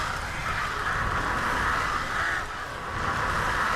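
Crows caw continuously in the Heavenly Sword video game, a steady raspy cawing mixed into the game's loud background rumble.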